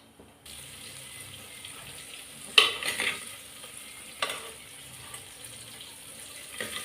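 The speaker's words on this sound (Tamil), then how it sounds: "கடுகு போட்டுட்டோம்." Mustard seeds and a little fenugreek crackle in hot oil in a home kitchen, a steady close sizzle broken by a few sharp pops, with no one talking.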